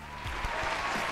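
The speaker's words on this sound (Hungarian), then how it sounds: "Tapsoljuk meg!" An audience at a cover-singer contest results announcement applauds for the third-place winner, a steady, dense patter of clapping that runs the whole moment at moderate loudness.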